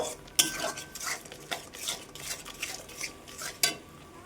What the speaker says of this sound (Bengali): এবার মশলাটিকে আমি ভালো মতন কষিয়ে নেব।